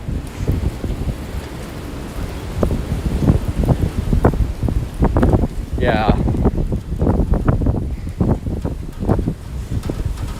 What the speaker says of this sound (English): It's like a wind tunnel here. Oh, the wind gets channeled down the street.